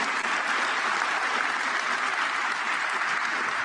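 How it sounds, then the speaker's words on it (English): Audience at an official FIFA pre-World Cup gathering in Vancouver breaks into a round of applause, dense and steady clapping from many hands that stays loud and unbroken from start to finish. "Big round of applause to Pierluigi Collina, please."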